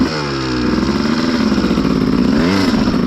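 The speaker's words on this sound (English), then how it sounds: "Gonna ride Alex's 250" A 2001 Honda CR250 two-stroke dirt bike revs close by with a recently adjusted carburetor, a loud buzzing engine that holds steady and then blips up and down near the end.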